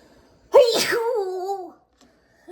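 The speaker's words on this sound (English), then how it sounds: "I think a sneeze is coming." A single sneeze up close, a sharp burst followed by a drawn-out trailing exhale, then silence.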